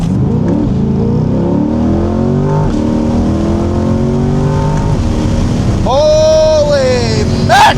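A Chevrolet C8 Corvette Stingray downshifts on an open highway, its engine rising in pitch through the gears, then dropping and surging again into a loud, hard-revving acceleration close by the cabin.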